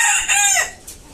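A rooster crows once, loud and close, followed by brief clucking from chickens.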